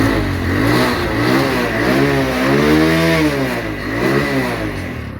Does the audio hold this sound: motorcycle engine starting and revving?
yes